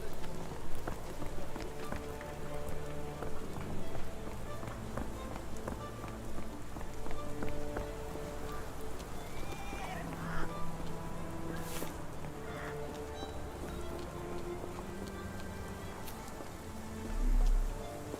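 Steady rain pours down in a Sherlock Holmes mystery game, a dense even hiss of drops on surfaces lasting throughout under a soft musical backdrop, with no talk.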